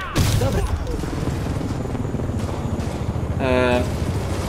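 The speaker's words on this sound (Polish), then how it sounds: "Nie wiem, co z tym helikopterem." Helicopter in the Spider-Man PS4 game, a pulsing rotor thump running steadily under loud action effects, with a short burst of rapid rhythmic clatter near the end.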